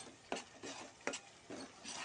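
Tomato puree is stirred in a hot pan, with a faint continuous sizzle broken by four scraping strokes of a spoon against the pan.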